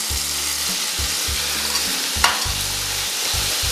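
Two teaspoons of minced garlic sizzle in hot oil in a Stanline pot, a steady, close, bright crackle with one sharp pop partway through.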